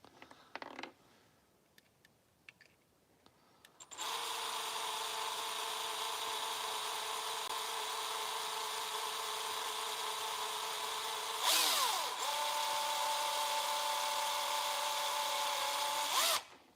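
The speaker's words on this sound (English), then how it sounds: "Drill a hole and cram it in there." Power drill boring a hole in an RC car part: after a few faint clicks, a steady high-pitched motor whine runs for about twelve seconds, briefly shifting pitch under load, close and without talk.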